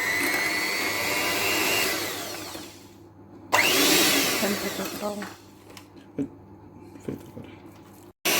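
An electric mixer beats eggs one at a time into profiterole choux dough, whirring loudly and steadily, pausing briefly, then resuming before it stops with a few clunks and knocks.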